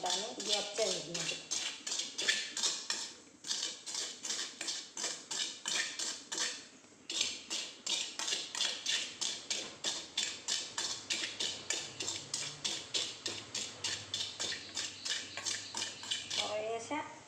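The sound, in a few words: grinding roasted dried shrimp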